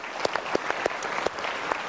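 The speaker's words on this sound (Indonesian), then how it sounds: "berikan tepuk tangan untuk Anda" Sparse applause from a studio audience on an Indonesian motivational talk show, a few distinct claps scattered over a light crowd bed, fairly faint and brief.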